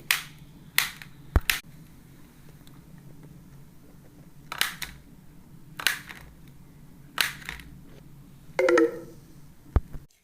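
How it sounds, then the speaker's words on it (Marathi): Whole bananas cut with a knife, producing scattered sharp taps and clicks on a board, about eight separate strokes at uneven intervals with quiet between them. "आता आपण कट करून घेऊ पूर्ण केळी."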